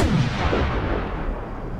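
Artillery firing in Fallout 4, heavy booming blasts rolling into a sustained loud rumble with no talk over it.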